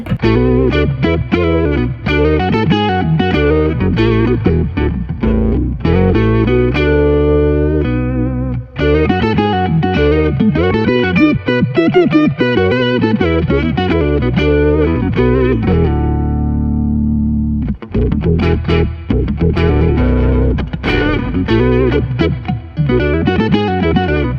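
Guitar run through a pedalboard with floaty, moving envelope filter effects gives a funky, sweeping, modulated tone. A long, loud passage of rhythmic chords and swelling notes plays with no talking.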